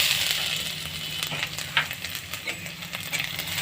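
Grated coconut frying in oil in a wok, tempered with a dried chilli and five-spice seeds, gives a steady close sizzle with light scraping stir strokes and no talk.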